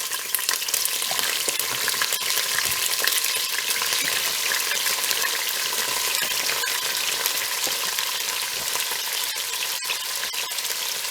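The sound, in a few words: leeks being sautéed and stirred in a pot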